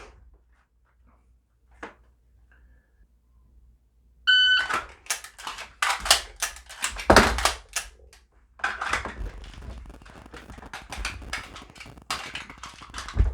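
A pistol draw-shoot-reload drill: a short beep opens a burst of sharp, loud shots and mechanical clatter, a brief pause, then another run of shots and handling noise after the magazine change.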